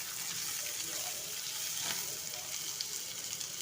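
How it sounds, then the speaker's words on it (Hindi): Onions frying in oil for keema give a steady, fairly quiet hiss with light stirring knocks throughout and no speech over it. "अब इसे अच्छी तरह से हम भून लेंगे, तलने में आधा ब्राउन करेंगे"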